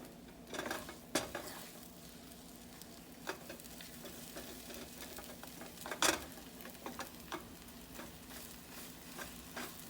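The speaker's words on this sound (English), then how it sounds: "And you see, we just stir that around." Scrambled eggs sizzling in a pan while being stirred, a soft steady fry with scattered scrapes and clicks of the utensil against the pan, close and quiet, with no voices.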